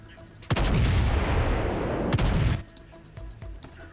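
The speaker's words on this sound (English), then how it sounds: "And now we have our main artillery." Main artillery guns on a flagship in the Starbase video game fire a sustained roaring blast of about two seconds, loud and close, opening with a sharp crack, then cut off sharply into quiet background.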